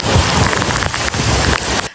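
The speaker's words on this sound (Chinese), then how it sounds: "大雨狂袭，暴风横扫，金门风雨交加" Heavy rain lashes down with strong wind as Typhoon Doksuri strikes Kinmen, a dense, loud, continuous roar of downpour and gusts with brief surges throughout and no voices.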